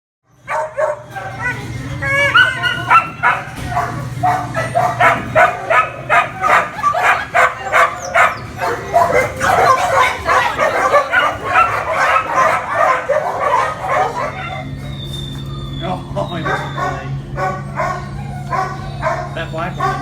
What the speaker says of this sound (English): We noticed the barking went from a desperate bark to a cheery bark.